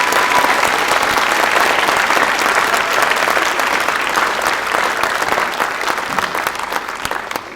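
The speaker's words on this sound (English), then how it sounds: "Let's give a round of applause to Patrick." Sustained applause from a large crowd at a high school graduation ceremony, dense steady clapping that slowly fades toward the end.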